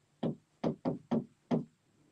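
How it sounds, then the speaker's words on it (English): Five firm knocks on a wall inside a historical museum, close and distinct in an uneven rhythm, two quick pairs followed by a final single rap, with quiet room tone between. "You want to knock on the wall?"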